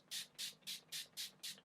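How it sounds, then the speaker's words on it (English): Six quick, evenly spaced spritzes of setting spray onto a face, each a soft close hiss in a steady rhythm against a quiet room. "Just going to spritz my face with this."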